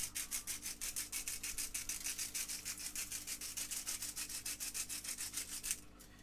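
Coarse salt being rubbed into pork skin, a fast, steady run of rough scraping strokes that carries on for several seconds, close and fairly quiet, then stops near the end, with no talking.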